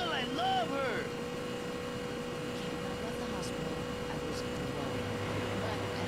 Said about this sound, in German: Das ist ein verdammt langsames Motorrad.